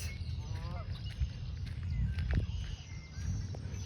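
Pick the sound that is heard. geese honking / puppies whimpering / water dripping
geese honking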